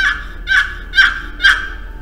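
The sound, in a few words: turkey call device imitating turkey yelps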